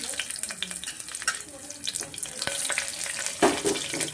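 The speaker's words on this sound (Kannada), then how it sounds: "ಸ್ವಲ್ಪ ಎಣ್ಣೆನ ಫ್ರೈ ಆದ ತಕ್ಷಣ ನಾನು ಎರಡು ಮೆಣಸಿನ ಸೀಡೆ ಇರೋದು ಸೇರಿಸ್ಕೊತಾ ಇದ್ದೀನಿ" Spices such as fenugreek and fennel with chillies frying in hot oil in a pan for soya pulao, a loud, close, steady sizzle with scattered crackles and occasional stirring clatter.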